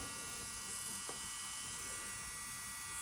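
An electric nail drill with a tapered barrel bit, set to about 8,000 RPM for a dry manicure, gives off a steady high-pitched whine. It runs at an even level from start to finish with no talking over it.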